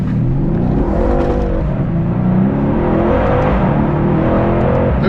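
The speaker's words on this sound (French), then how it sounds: "Oh, le V8, il est sympa, hein? Bel moteur, hein?" A V8 car engine revs hard and loud throughout, a continuous deep roar swelling and easing as the throttle is worked during a drifting session on a quiet track.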